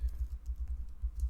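Rapid, uneven keyboard typing with soft low thumps clustered in quick bursts, close and fairly quiet, with no talking.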